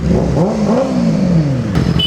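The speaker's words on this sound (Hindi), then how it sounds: "इन्होंने हमें अपनी तरफ अट्रैक्ट करने के लिए रेस दी।" A Kawasaki Ninja ZX-10R motorcycle engine revs nearby, a loud throaty roar rising and falling in pitch over about two seconds, with a brief click near the end.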